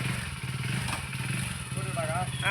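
A motorcycle engine putters along at a steady idle, running under continuous talking with a slight rise at the end as it pulls away.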